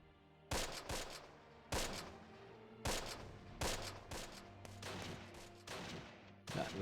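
Machine gun bursts from a World War II tactics game, Close Combat, fired at the Hatert Bridge: several short, sharp volleys at irregular intervals, moderately distant, with no talk.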